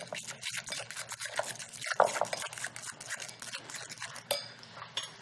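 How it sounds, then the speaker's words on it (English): Soft, close stirring of creme fraiche into an avocado mixture in a bowl, a run of wet scraping strokes and light utensil clicks against the dish. "we'll put creme fraiche in here"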